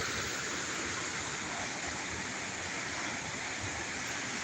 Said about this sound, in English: The water is powerful, but seems calm.